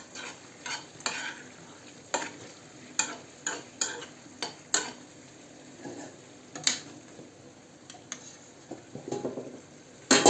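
Dumplings (vushka) for Hutsul-style Christmas Eve borscht fry in a pan: a steady close sizzle broken by repeated stirring scrapes and taps of a utensil against the pan, with no voices.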